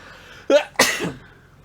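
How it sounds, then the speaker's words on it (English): A single close sneeze with a quick inhaled buildup followed by a sharp, loud burst. "You just made me sneeze."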